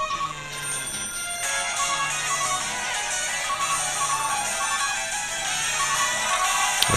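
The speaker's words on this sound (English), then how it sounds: "I guess that'll be the phone" Phone ringtone from the Calling Wii game, a loud electronic melody that repeats steadily for several seconds with no talk over it.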